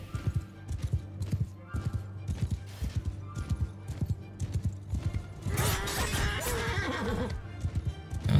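Horses in Mount & Blade II: Bannerlord gallop with rhythmic hoofbeats, then a loud neigh bursts out near the end, close and clear over battle ambience.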